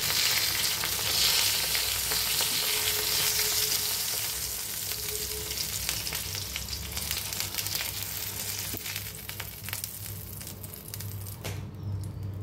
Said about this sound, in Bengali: বাদ বাকিগুলো ঠিক এইভাবে ভেজে নেব